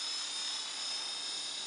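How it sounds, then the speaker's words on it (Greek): Remote-control model helicopter in flight, heard as a faint, steady, high-pitched whine with a thin hiss and no other sounds. "Πετάει και ωραία, βλέπω το ελικόπτερο. Πολύ ωραία πετάει."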